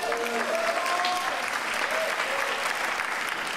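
An audience at a live stage show claps in a dense, continuous wash of applause, steady and moderately loud, with faint voices and a brief whistle or shout mixed in early on.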